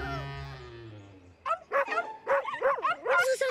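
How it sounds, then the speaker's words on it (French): Several small dogs yip, bark and whimper in quick bursts, close and fairly loud, following a low sustained musical passage. "Vous entendez? Ce sont les autres petits chiens."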